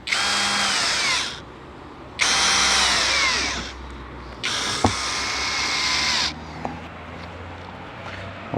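A power drill driving screws into a UAZ Bukhanka van during a campervan conversion, three loud whirring bursts of about a second or more with pauses between and small clicks, close by and with no talking.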